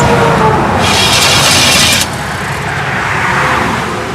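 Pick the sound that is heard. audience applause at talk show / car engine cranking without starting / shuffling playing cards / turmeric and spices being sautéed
car engine cranking without starting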